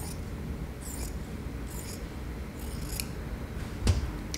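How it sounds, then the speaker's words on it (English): Scissors snip through dress fabric to cut open a sewn dart close to the seam, a few soft, quiet crisp cuts spaced apart, the last one slightly louder, with no talking. "take your scissors right here, snip right along here"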